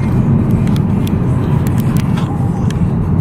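Steady low road rumble of a car cruising through English countryside on the way back toward Oxford, loud and constant from inside the vehicle, with a few faint high clicks and no one talking.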